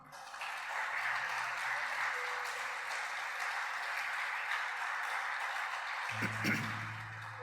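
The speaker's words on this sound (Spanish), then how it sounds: "Dale un aplauso al Señor." A church congregation applauds during a Spanish-language evangelism service, a steady even wash of many hands that holds for several seconds at moderate distance, with a low tone entering near the end.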